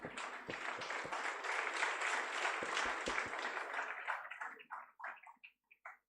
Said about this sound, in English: we can clap loudly